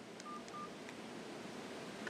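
Two short keypad tones from a Funker F703DS mobile phone sound in quick succession, clean and close, over a steady low background hiss with no talking.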